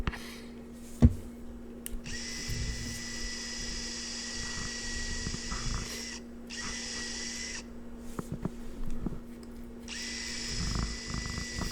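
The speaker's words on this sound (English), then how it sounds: "Clamp it in place, put some screws in there" A power drill drives screws into the face frame of a contemporary-style vanity, giving three separate bursts of steady whirring with short pauses between them, heard close up with no talk.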